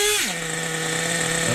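A nitro engine drops from a higher rev to a steady idle, holding a constant, buzzing drone close by with no voices over it.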